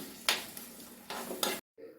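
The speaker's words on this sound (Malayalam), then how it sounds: "എന്നിട്ട് നമുക്കൊന്ന് മിക്സ് ചെയ്യാം" A fish curry being mixed in a pan on a kitchen stove: a few brief, close scraping stirs with a soft sizzle, followed by a short silence.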